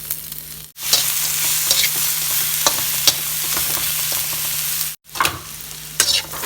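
Onions, garlic and ginger sizzle steadily in a hot pan, a loud, continuous frying hiss broken twice by brief gaps as they are stirred.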